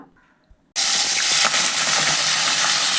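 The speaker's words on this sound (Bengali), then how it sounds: "কড়াইয়ের মধ্যে বেশ খানিকটা সর্ষের তেল কাচ্চিঘানি মাস্টার্ড অয়েল কিন্তু দিয়ে দিচ্ছি" Mustard oil hitting a hot wok for a crab curry: after a brief quiet moment a loud, bright hiss bursts in and holds steady to the end.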